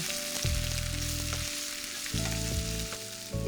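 Salted onions fry steadily in oil, a continuous close sizzle with a few light knocks and low tonal hums from the kitchen underneath.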